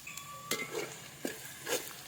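Onions sautéing in a pan for a Kerala-style chicken curry, a quiet steady sizzle broken by a few sharp spoon clicks and scrapes against the pan.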